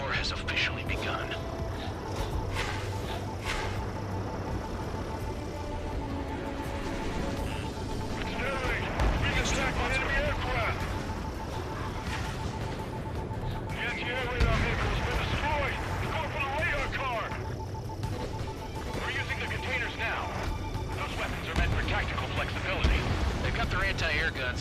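Anti-aircraft guns fire in the Ace Combat 7 video game, rumbling bursts and booming blasts rolling under radio chatter and a steady tone, dense and loud throughout.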